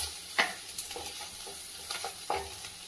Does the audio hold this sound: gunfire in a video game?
no